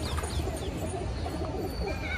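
Pigeons kept inside a netted loft coo softly and repeatedly over a steady ambient hum, with no talk.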